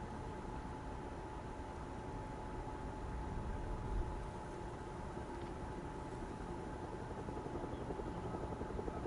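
A helicopter in the game Hell is Us flies overhead with a steady, dense rotor whir and engine drone that holds constant and fairly loud for several seconds, peaking slightly near the middle, with no talking.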